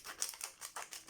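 Small scissors snip open a little sachet of watercolour paint samples, giving a quick series of faint, crisp cuts and crinkles in an even rhythm, close by with no talking.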